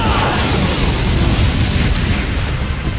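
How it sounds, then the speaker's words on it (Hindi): Loud, sustained booming blast from a superpowered ball throw in an anime episode, a dense roaring explosion that fills the whole moment without letting up. "जिसके बाद कांचन अपना सुपर पावर यूज करता है और एक जोर के धमाके के साथ"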